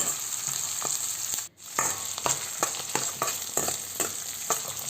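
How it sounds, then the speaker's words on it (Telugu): Onions and curry leaves frying in a pan for a Rayalaseema bottle gourd curry, a steady soft sizzle broken by repeated scraping strokes of stirring, close and fairly quiet, no talk. "ఈ ఆనియన్స్ అంతా కొద్దిగా బ్రౌనిష్ కలర్ వచ్చేంత ఫ్రై చేసుకుందాం."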